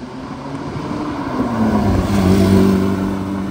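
A Porsche GT3 Touring drives past on a central London street, its engine note swelling louder and rising as it approaches amid steady traffic noise.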